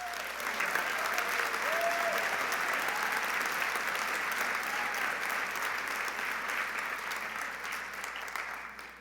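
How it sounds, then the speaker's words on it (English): Graduation ceremony audience applauding steadily, a dense wash of clapping that stays loud throughout and tapers slightly at the end. "so they all deserve a big round of applause for that."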